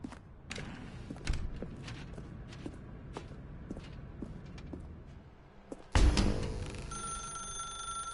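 Telephone ringing in The Stanley Parable, a muffled game-world ring heard among soft footsteps and ambient clicks, then a louder burst of bright sustained ringing tones near the end.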